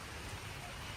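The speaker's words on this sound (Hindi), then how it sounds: "बारिश आ गई है" Rain begins falling in a dense, even wash of patter on surfaces, steady and fairly close throughout with no voices.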